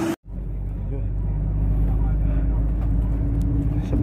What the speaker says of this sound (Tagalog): Ito na yung bus namin.